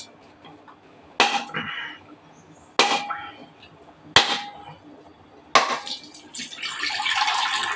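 A husk-cleaned coconut takes four hard, sharp strikes spaced about a second and a half apart, each ringing briefly. The shell then cracks and its water splashes and trickles out steadily at the end.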